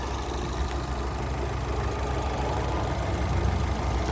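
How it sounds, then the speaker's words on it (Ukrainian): A 1.8-litre petrol Opel Zafira engine idles steadily and evenly, a continuous low rumble with no voices over it. "Мотор працює чітко, рівненько"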